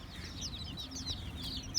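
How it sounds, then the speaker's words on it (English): Small bantam chicks in a homestead coop give faint, high chirping peeps in quick overlapping bursts above a low background rumble, with one brighter peep at the end. "Oh, look at the little guys. They're bantams."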